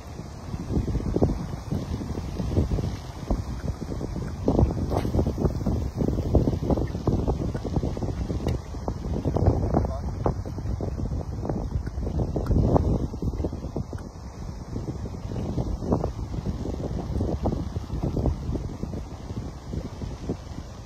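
Strong gusty wind buffeting the microphone outdoors while a fishing rod is being test-cast, a loud continuous rumbling roar with surging gusts and no talking.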